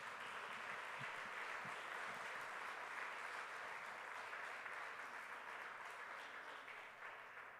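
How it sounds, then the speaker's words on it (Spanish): A church congregation applauds at a sermon, a steady wash of many clapping hands that holds evenly and thins slightly toward the end. "Vamos a darle un fuerte aplauso al Señor Jesucristo"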